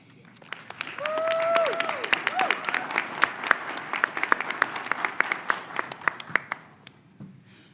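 An audience welcoming two speakers breaks into sustained applause: dense, even clapping that swells early, then holds steady with a brief whoop before tapering off at the end.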